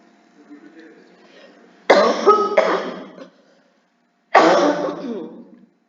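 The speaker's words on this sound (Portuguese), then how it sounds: "eu não vou pedir toda hora desculpa pela tosse" Two harsh, close coughing fits separated by a short pause, each a burst of several rough coughs in an otherwise quiet room.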